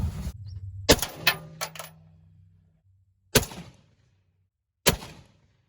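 Three sharp gunshots from Remington UMC ammunition fired at a target, spaced a second or more apart, each with a short echoing tail, the first followed by a clatter of smaller knocks.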